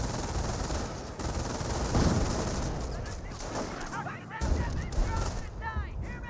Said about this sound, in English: Rifleman will get suppressed there by the MG42.